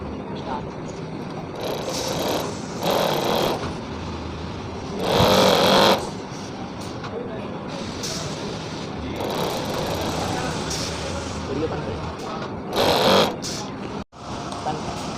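A Juki overlock sewing machine runs with a steady mechanical whir, with louder bursts of stitching over a continuous hum.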